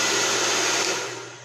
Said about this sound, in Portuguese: Só que aqui eu vou usar o secador.